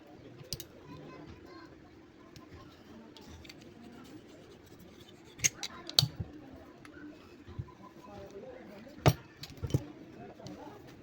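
Plastic clicks and light clinks ring out as the front cover and its clip are taken off an electric fan that slows down and stalls when its motor runs hot, with sparse sharp snaps over a low, steady background.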